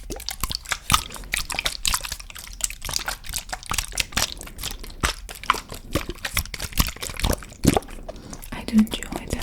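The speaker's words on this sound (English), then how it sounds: "I do enjoy the water sounds." Water dripping and pouring in a close, binaural setting, with irregular sharp drips and small splashes scattered across a quiet background, interspersed with soft trickling and brief pours.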